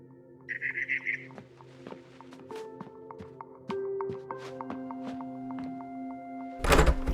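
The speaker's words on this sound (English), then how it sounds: "Then I heard chirping outside my window." Birds chirp in short bursts outside a window in the video game What Remains of Edith Finch, heard over soft taps, thunks and a steady tonal hum of game ambience, ending in a sudden noisy burst.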